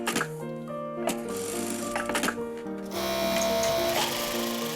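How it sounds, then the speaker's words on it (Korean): A sewing machine runs steadily for a tailor who has made clothes for 40 years, its mechanical whir and repeated stitching clatter continuous and close, with tones shifting midway. "오늘도 재봉틀 소리로 하루를 시작한 황화자 씨"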